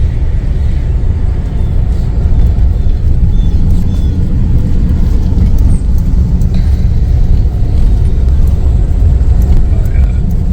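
A truck driving on a stony road, giving a loud, steady rumble of the engine and tyres that runs throughout with no clear breaks.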